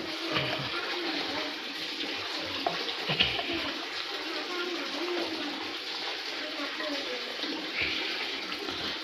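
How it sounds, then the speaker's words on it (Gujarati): Drinking water pours into a water bag at home, a steady close gush and splash running throughout with faint voices in the background. "આપણે સાગરને પાણી ભરી આપીએ છીએ"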